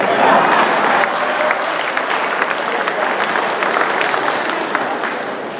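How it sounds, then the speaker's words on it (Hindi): Applause from an audience at a public meeting in Irving, held for Modi, fills the whole stretch: dense and fairly loud, swelling at the start and easing slightly as it continues. "अब आया मजा ताली बजाने का"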